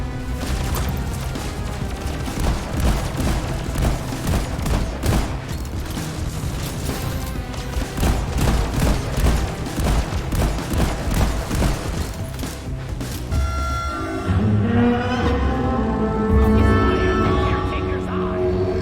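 Rapid gunfire and crashing impacts from combat in The Outer Worlds video game pour out in a dense, continuous barrage, loud and cluttered with game effects, easing into a lighter, more tonal passage near the end.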